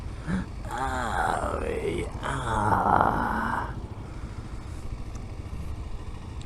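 A Kawasaki KLR 650 dual sport motorcycle passes close by, its engine note rising and then falling away over a few seconds, followed by fainter road noise.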